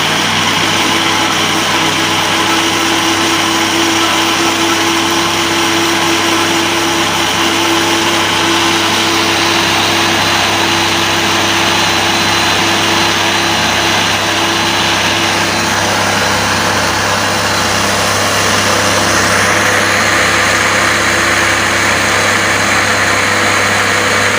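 A kitchen blender runs steadily for the whole stretch, churning mango ice cream ingredients with a constant motor hum and whirring, loud and close, with no talk over it.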